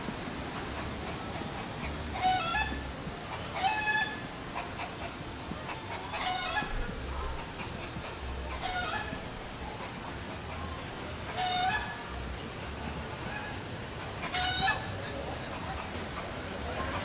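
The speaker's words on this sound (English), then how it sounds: "Vocal chickens up in that tree." Chickens perched up in a tree at Mallory Square in Key West, giving repeated short clucking bursts every couple of seconds over a steady outdoor background hum.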